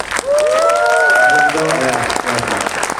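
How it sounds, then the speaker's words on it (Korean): A Korean cinema audience at a film Q&A applauds director Chung Ji-young's 40th anniversary, loud, sustained clapping with some cheering, and a high whistling tone rises above it early on. "여러분 함께 우리 정지영 감독님의 40주년 축하 박수 어떠십니까?"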